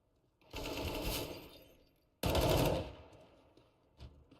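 Two long bursts of rapid automatic AK rifle spray fire in the video game Counter-Strike, fairly quiet and distant-sounding, separated by a brief pause and followed by a faint short tail.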